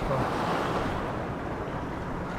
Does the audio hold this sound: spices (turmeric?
no